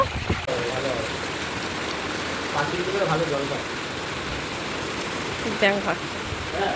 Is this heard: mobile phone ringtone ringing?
no